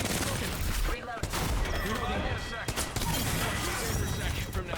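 Dense video game gunfire in Apex Legends, rapid overlapping shots and bursts filling the whole stretch, close and loud, with in-game voice callouts over the top.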